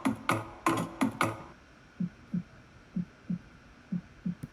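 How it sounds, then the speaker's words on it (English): A sidechain compressor in Ableton pumps an Afro House track in EDM style: a dense, loud beat first, then soft, regular low thumps that swell and duck in a steady rhythm, with no voice. "creates a cool kind of effect in your track, doesn't it? Kind of cool pumping"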